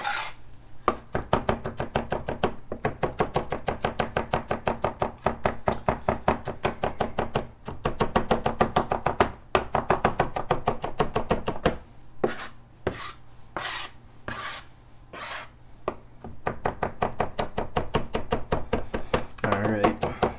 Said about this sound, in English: is if you're chopping garlic like this